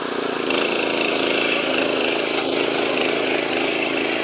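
An agricultural machine's engine runs in second gear, a loud, steady, close mechanical drone that kicks up slightly after a brief quieter start and holds evenly.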